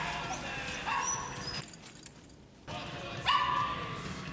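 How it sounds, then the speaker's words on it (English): A dog barks and yelps in a scene from the 1991 film The Silence of the Lambs, a few sharp barks heard over the film's background sound, with a brief drop to near silence midway. "Don't kill the dog."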